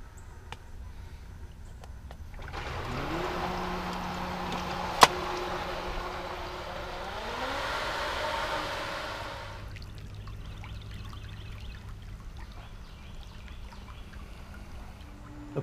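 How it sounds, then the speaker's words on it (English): A 240-volt pool pump switches on with a sharp click, its motor hum rising in pitch and then settling into a steady drone, with a faint wash of flowing water that fades after several seconds. "Let's throw in the pool pump."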